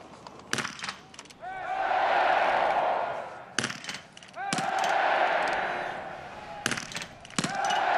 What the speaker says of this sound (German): Nach dem vierten Schuss nochmal abgesetzt, ein bisschen gewartet, nochmal das Auge beruhigt und getroffen.